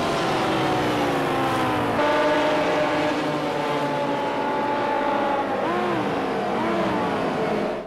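A Porsche road car engine in a racing video game from the Porsche Legends Pack holds a smooth, sustained tone. Its pitch climbs and shifts as it accelerates through the gears, loud and close with no talk over it.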